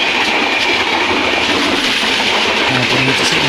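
A passenger train on a Vijayawada to Nizamabad journey runs on its rails with a loud, steady, close rumble and a faint clickety-clack of the wheels throughout.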